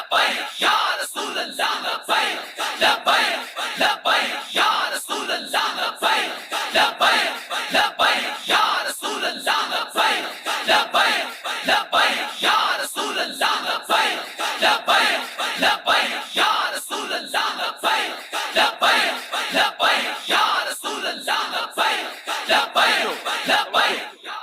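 Large crowd at a religious speech chanting slogans in loud, rhythmic call-and-response bursts, with regular repeated shouts filling the whole stretch.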